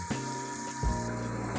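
Water runs from a colour-changing shower head in a renovated Saint Petersburg studio flat, giving a close, steady hiss and splash with a pump-like hum, with a brief shift in flow midway through.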